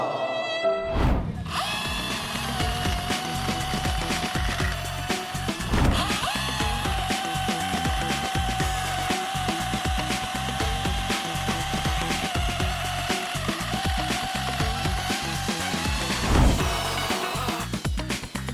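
An INGCO cordless mini chainsaw cuts small pieces of wood or branches with a continuous, close, buzzing motor drone. The pitch shifts as the blade bites and eases, and the saw revs up briefly near the start and end, with no talking.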